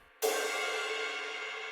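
Crash cymbal hit in a bedroom R&B drum pattern: one bright, loud splash that lands sharply and rings out with a long, slowly fading wash, heard alone with no talk.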